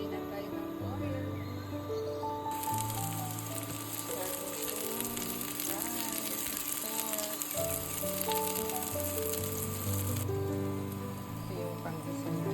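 Ginger, garlic and onion sautéing in oil for pinakbet, a steady bright sizzle that rises a few seconds in and runs for several seconds beneath prominent background music.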